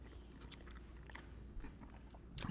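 Squeaky, salty cheese curds being chewed close to the mouth, faint rhythmic crunching and biting sounds over quiet room noise, without talk.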